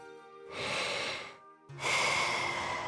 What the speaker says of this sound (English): Sound of Karja's steady breathing fills the air.